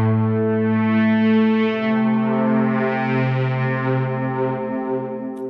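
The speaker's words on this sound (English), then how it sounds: "Now, let's move to a pad type of sound." Sustained synth pad from an Arturia iSEM synthesizer preset, a rich, buzzy held chord with slowly shifting brightness, steady and loud and fading slightly at the end, with no talking.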